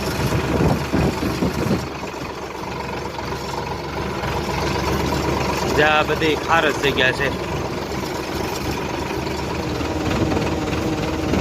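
A steady tractor engine rumbles and idles throughout on a farm where a pond is being dug, with a person talking over it.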